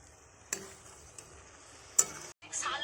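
Coconut and sugar filling for pitha being stirred slowly in a pan over low heat, a faint soft background with a few sharp spoon clinks against the pan.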